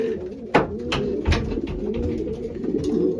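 Racing pigeons in a loft coo softly from close by, giving several short throaty calls with a few wing flutters mixed in.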